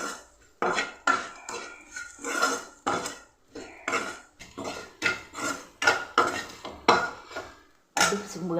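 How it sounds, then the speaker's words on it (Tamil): Chili powder is stirred and fried in a metal pan while cooking a tomato curry. A utensil scrapes and clanks against the pan in a steady rhythm of repeated strokes, close and fairly loud, with a brief pause near the end. "நல்லா ஒரு நிமிஷம் வறுத்துக்கலாம்."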